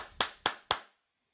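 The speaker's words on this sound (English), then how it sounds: "All right, big round of applause for Ruby." Three sharp, evenly spaced hand claps ring out close and clear, each with a short decay, followed by silence.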